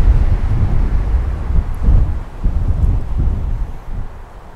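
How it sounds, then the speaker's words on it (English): Strong wind buffeting a lakeside campsite during a meal outdoors, a loud continuous low roar with gusty swells and rumbling microphone buffeting throughout, no talking. "Now that wind has got to be getting you."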